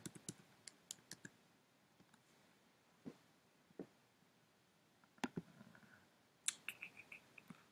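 Keys on a computer keyboard clack in sparse, irregular taps and short clusters, faint and close in an otherwise quiet room, with no talking.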